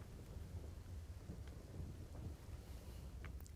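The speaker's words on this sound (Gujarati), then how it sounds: "સતત વરસાદ વરસી રહ્યો છે" Continuous heavy rain falls over the Dhrangadhra area of Surendranagar, a faint, steady wash of low rumbling noise with no pauses.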